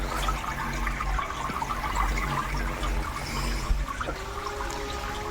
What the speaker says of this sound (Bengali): একবার চালিয়ে দেখি চলছে নাকি জল উঠছে নাকি ঠিকঠাক